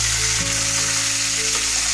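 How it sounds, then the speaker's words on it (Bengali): Parshe fish fry in hot oil for a Bengali jhaal, giving a loud, close, continuous sizzle with a faint low hum underneath and no voices. "আমার মাছটা হয়ে এসছে ভাজা।"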